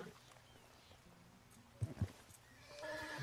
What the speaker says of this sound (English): I'm telling you, the derpiest horse I've had, this one.